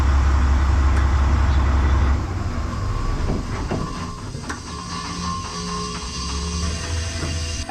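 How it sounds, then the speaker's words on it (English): A truck idles loudly while its air brake tanks fill, a low engine drone with rhythmic mechanical clicking and hissing throughout. "that sound that you're hearing is just the air tanks filling up"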